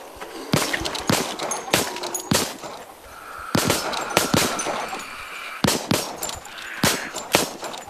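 Video game gunfire in irregular bursts of sharp, loud shots, some fired singly and some in quick pairs, separated by short gaps over a quiet background with no talking.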